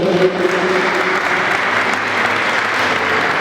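Sustained applause fills a mini football award ceremony, a crowd clapping evenly and loudly throughout, with a faint murmur beneath it.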